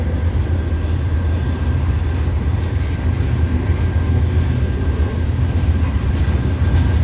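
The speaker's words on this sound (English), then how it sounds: "Man, this is a huge train." A huge freight train with boxcars, ethanol tank cars, a spacer car and a DPU locomotive rolls past, a loud, constant low rumble and clatter of wheels with a faint whine above, and no voices.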